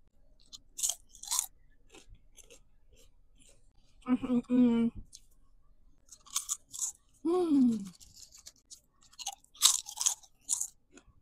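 Crisp, close crunching and chewing of a crunchy popia seaweed snack, bites in irregular bursts with short pauses between, and a person talking briefly between the crunches.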